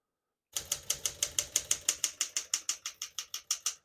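Rapid, even keystrokes on a 1966 Smith-Corona Sterling portable typewriter, about twenty sharp metallic clacks in a steady rhythm, close and crisp, each strike ringing briefly before the next, with no talking.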